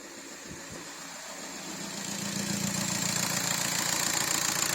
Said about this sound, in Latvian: Tā, bubina tāpēc, ka mums gaisa filtra nav, bet motors neraustās.